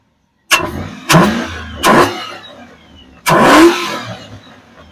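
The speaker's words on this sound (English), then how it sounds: "I'm going to go ahead and give this thing some revs so y'all can hear it" Four sharp revs from a 1999–2006 GMT-800 truck engine fitted with a cold air intake, each a loud burst that quickly falls back, the last one longer and fuller, close by with no talk.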